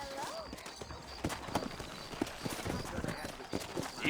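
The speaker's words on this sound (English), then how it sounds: "You ain't gonna find sturdier horses than these in all of New Ulster" Horses' hooves clip-clopping at a steady walking rhythm on a trail in the Red Dead Redemption video game, near and moderately loud, with someone talking over them.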